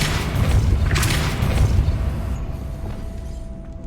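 The Depulso force-push spell in Hogwarts Legacy lands as a heavy booming impact with a rumbling burst up front, fading into a lingering low rumble.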